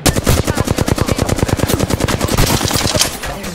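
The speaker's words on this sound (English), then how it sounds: "They're shooting at me" Rapid automatic gunfire from a weapon in the video game Apex Legends, a dense steady burst of close, loud shots repeating for several seconds with no pause.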